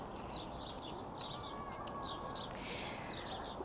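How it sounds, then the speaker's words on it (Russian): Small birds chirp outdoors on an early spring evening in snowy Moscow, short high calls repeating every second or so, fairly faint over a steady background hum. "Птички как поют."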